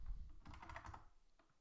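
Soft clicking of computer keys in a short burst of typing, close and fairly quiet, with no voices.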